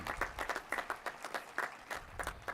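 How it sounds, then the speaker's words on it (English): Scattered, fairly faint clapping from a commencement audience at an upper school graduation, individual claps distinct and uneven rather than a dense roar. "You're going to regret that applause"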